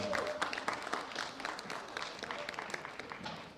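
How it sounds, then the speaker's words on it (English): A large audience applauds lifters at the 2016 World Bench Press Championships in Brøndby, Denmark, with steady dense clapping throughout and some murmuring voices mixed in. "Please give all of our lifters at this World Championship a big round of applause"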